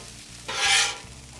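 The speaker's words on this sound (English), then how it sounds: "I have a little bit of minced garlic going in. Fry that." Minced garlic hits a hot pan with a brief burst of sizzle that swells and fades within a second, set over a low kitchen hum.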